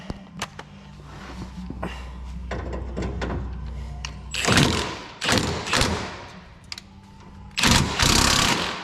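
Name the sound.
impact wrench with chrome extension and socket on car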